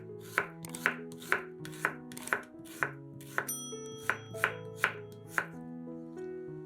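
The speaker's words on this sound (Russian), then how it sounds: "2-3 луковицы нарезаем полукольцами" A knife slices two or three onions into half rings on a cutting board, with about a dozen crisp, evenly spaced chopping knocks, close and clear with no talk.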